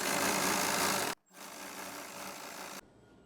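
A sewing machine running close by as it stitches elastic gathers on an umbrella palazzo, a loud steady mechanical whir for about a second, a brief stop, then another long run before it cuts out.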